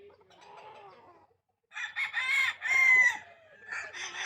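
A rooster gives a loud, close crow in a couple of drawn-out bursts, preceded by softer clucking and a brief pause.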